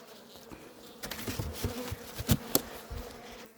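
Honeybees buzzing around hive frames at an apiary, a close swarm of droning wings that swells in and out, with individual bees zipping past near the listener.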